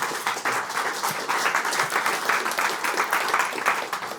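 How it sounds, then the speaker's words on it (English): Sustained audience clapping at an Impact Circle business event, many hands applauding steadily in a room for several seconds. "I hope that clap is somewhere on the film."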